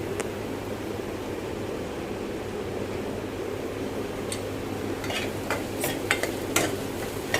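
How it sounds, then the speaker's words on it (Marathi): Steady low sizzle as mustard seeds and cumin fry in hot oil over toasted onion, with faint crackles and a few sharp spoon clinks toward the end under a background fan hum. "आता मोहरी टाकते आहे, थोडंसं जिरं टाकते आहे."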